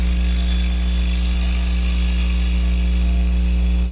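Wood lathe turning a bowl with a cupped carbide tool, the Hunter Badger, producing clean shavings; a loud, steady motor hum with continuous cutting noise throughout, no voices.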